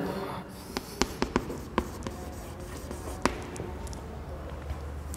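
Writing on a board during a lecture, with several sharp taps and scratches scattered over a quiet room background and no talk.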